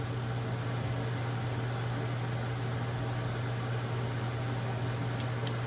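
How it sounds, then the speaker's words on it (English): A small electric fan hums steadily in a room, a faint constant drone with no change in pitch, briefly interrupted by a couple of small clicks near the end. "Turn that fan off."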